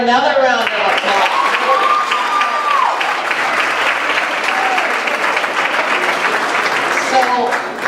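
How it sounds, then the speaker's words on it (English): Loud, dense audience applause at a Black History Month program fills the whole span, with a few cheers and whoops rising over the clapping and a voice briefly audible at the start. "Let's give her another round of applause."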